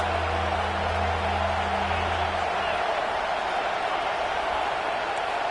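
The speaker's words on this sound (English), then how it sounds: "Listen to this crowd just shaking the girders of this place trying to help their defense." A packed stadium crowd at a football game roars loudly to rattle the girders as the defense faces third down, forming a dense, steady wall of cheering noise. A low hum sits underneath during the first half.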